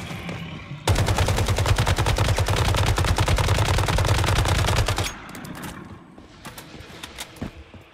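Rapid automatic gunfire in the survival shooter Once Human: a loud, continuous burst of evenly spaced shots lasting several seconds, followed by quieter scattered sounds and a few isolated shots.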